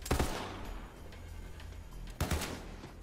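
In Borderlands 3, gunshots are fired at runes. Two loud bursts of shots come about two seconds apart, with quieter noise between them.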